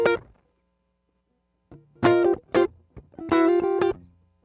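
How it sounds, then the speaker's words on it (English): A Fender Meteora electric guitar set for a Telecaster-like twang plays a short phrase: a plucked note, a pause, then bright clipped notes and a sustained chord with a quick decay, close and alone. "Here is the sound of the guitar."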